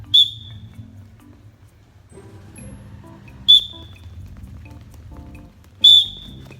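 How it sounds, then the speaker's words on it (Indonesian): Three sharp whistle blasts, the first at the start and two more spaced a few seconds apart, each blown as a signal during a children's physical fitness exercise, standing out over a low background murmur. "Contoh, peluit pertama."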